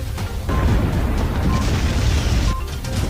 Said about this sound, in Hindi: यूक्रेन की जमीन पर बम धमाके हर ओर